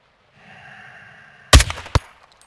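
Sniper rifle fire during a prison break mission in Call of Duty: Modern Warfare II (2022): after a low, quiet hum, two loud, sharp cracks land about half a second apart, and a third shot starts right at the end.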